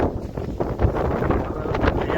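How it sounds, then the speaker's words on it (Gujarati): Strong wind roars and buffets the microphone in a loud, continuous rumble with gusty surges. "પવન આવ્યો છે થોડો વધારે આવ્યો છે"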